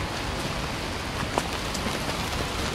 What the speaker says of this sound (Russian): Ну, еще не такой сильный дождь.